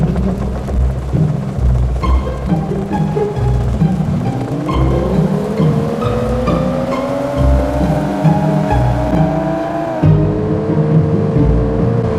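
An old, abandoned Lada Priora in the driving game Car Parking Multiplayer crawls along slowly with smoke from its silencer. Its engine drones steadily, then its pitch climbs gradually before dropping sharply near the end.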